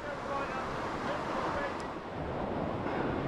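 Sea surf and gusting wind at Pulpit Rock, Portland, Dorset, on a day with a strong northeasterly, a steady broad wash of waves with wind buffeting the microphone, fairly quiet and continuous with no talk.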